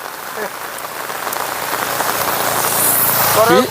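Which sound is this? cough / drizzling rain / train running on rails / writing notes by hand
drizzling rain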